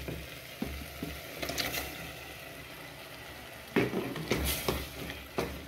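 Liver fries in a pan with tomatoes, onions and mixed spices, giving a soft sizzle broken by clattering scrapes and stirring knocks, louder in a busy burst near the end.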